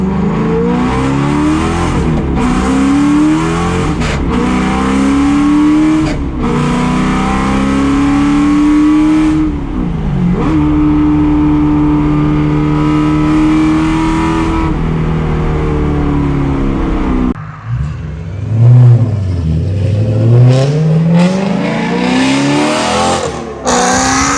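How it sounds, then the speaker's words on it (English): A BMW E92 M3 race car engine with a broken transmission revs hard and loud, climbing and dropping through repeated gear changes, then a lower, rougher stretch with tire squeal and rumbling near the end. "I'm going to let him drive the E92 M3 race car."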